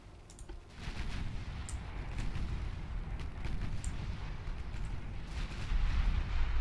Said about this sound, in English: They both fired their torpedoes.